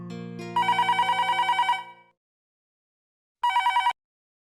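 A telephone bell rings in a burst of rapid repeated trills, stops, then rings once more briefly in an otherwise quiet room.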